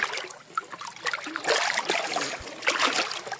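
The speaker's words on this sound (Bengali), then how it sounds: "আমি টানছি নৌকোটা" A fishing boat pulled by hand through shallow river water during net fishing, with soft continuous trickling and lapping water and small splashes, fairly close, with no talk.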